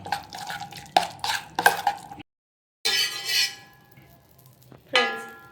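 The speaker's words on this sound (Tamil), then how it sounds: "இது எல்லாத்தையும் அப்படியே மிக்ஸ் பண்ணிக்க வேண்டியதான்" Snack ingredients being mixed with pepper powder in a bowl, heard as close, bright clinks and scrapes in short bursts. A brief silence breaks the sound partway through, and a final clink rings out.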